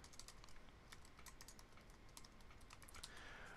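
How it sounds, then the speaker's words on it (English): Someone types a username and password on a computer keyboard, a quiet, steady patter of key clicks heard close with no talking. "Let's type our username and password in and get logged back in."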